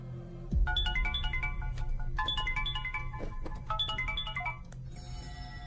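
A melodic electronic phone ringtone plays in three repeated bursts of stepped tones over a steady low background hum, with a brief thump near the start and no talking.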